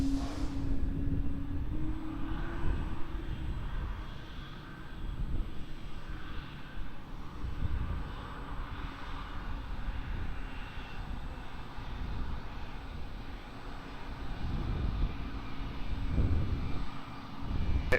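Airplane jet engines at Lisbon Airport give a steady, broad roar that swells and eases over a long stretch, heard from a distance with a faint whine on top.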